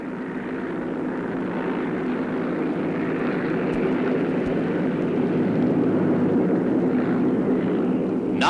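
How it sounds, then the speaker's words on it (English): A 1959 airplane takes off with a loud, steady engine roar that holds at near-constant strength from start to finish, with no voices. "It's time for another takeoff."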